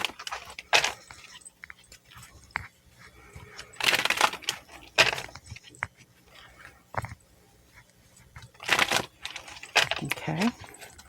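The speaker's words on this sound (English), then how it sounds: "now let's do another quick shuffle and get some cards" Soft riffling and flicking of tarot cards being shuffled in several short bursts, close by, with quiet pauses between.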